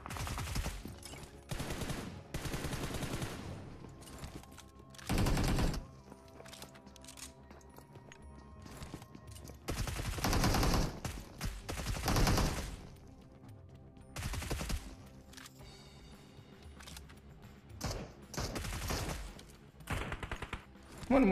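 Bursts of video game gunfire in an online multiplayer shooter, several loud volleys of rapid automatic fire separated by quieter stretches of background game sound, with no talk.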